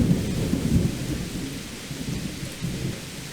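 Heavy rainy-season downpour in the Thai countryside, with a dense, constant hiss of rain and deep rolling thunder rumbling low and close throughout, with no voices.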